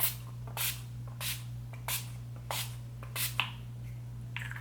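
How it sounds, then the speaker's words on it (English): Short bursts of makeup setting spray, about seven, evenly spaced over a steady low hum, close by with no talking. "I'm going to spray this with my Urban Decay setting spray"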